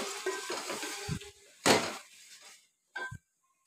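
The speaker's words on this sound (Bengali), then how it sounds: "তো ভালো করে কষিয়ে নেব মশলাটা।" Spice masala with mutton being stirred and fried in a pan, giving short scraping stir strokes and a faint sizzle, with a louder scrape near the middle and a brief clink near the end, no talking.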